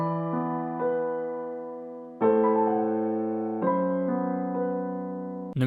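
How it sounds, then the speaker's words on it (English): Piano chords added to a beat in FL Studio ring out cleanly in a few sustained changes, each struck chord decaying slowly, fairly quiet with no talking. "And I noticed in the song there was like a piano after the intro"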